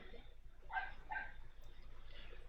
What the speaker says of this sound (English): my dog's barking in the backyard